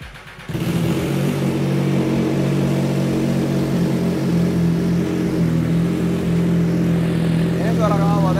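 An MV Agusta Stradale motorcycle engine catches after a brief crank and settles into a loud, steady, close-up idle with a throaty exhaust burble that continues without a break.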